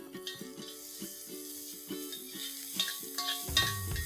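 Onions sizzling in oil in a pan after extra oil is added, frying to a crisp golden brown for a chicken korma, with repeated stirring clinks and scrapes over a steady soft crackle.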